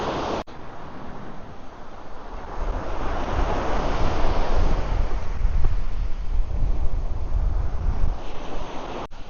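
Waves breaking and washing in on the Sea of Japan shore in Japan, a steady, fairly loud surf roar that swells and recedes, with some wind buffeting the microphone and no voices.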